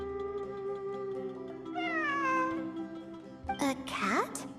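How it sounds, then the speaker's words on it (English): A cat in Genshin Impact meows twice, a drawn-out mid-length mew followed by a sharper rising meow, heard over soft background music with some voice present. "A cat?"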